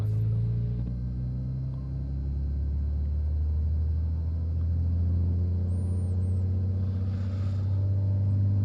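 Single-piston engine of a Trinidad TB21 light aircraft in Microsoft Flight Simulator, held on the wheel brakes while throttled up to half power: a loud, steady, close droning rumble that holds evenly throughout, with no talk.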